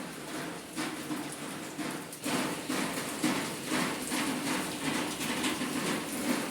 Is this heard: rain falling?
yes